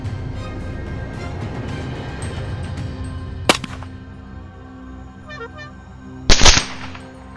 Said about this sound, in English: In the dark night, the gunshots kept ringing